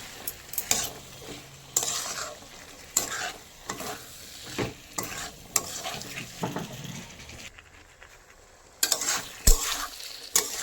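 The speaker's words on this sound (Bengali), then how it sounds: "এই চানাটাকে মশলার সঙ্গে একটু কষিয়ে নেওয়া হচ্ছে" Boiled chickpeas frying with spice masala in a pan, a low sizzle under repeated stirring with scrapes and clinks coming in irregular bursts, then a short quiet pause before the stirring resumes.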